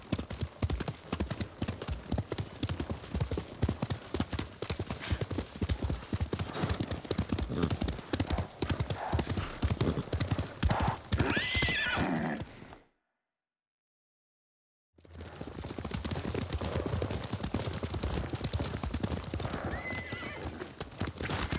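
Horses in Ghost of Tsushima gallop in a steady, loud clip-clop of hooves that runs on without a break, with whinnies over it. Everything cuts out to silence for about two seconds, then the hoofbeats and neighing come back.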